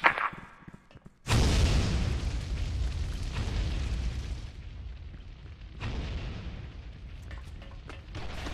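Frag grenade detonating in the shooter Special Force 2: a sudden loud boom after a brief quiet moment, followed by a long rumbling decay and lingering debris noise.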